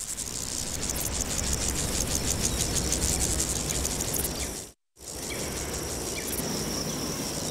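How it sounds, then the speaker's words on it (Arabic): Millions of grasshoppers in open grassland make a dense, steady high buzz and rasp that fills the whole soundscape, continuous and loud, broken only by a brief moment of silence near the middle. "والآن بدلا من سماع هدير الحوافر صرت تسمع طنين ملايين وملايين الجنادب"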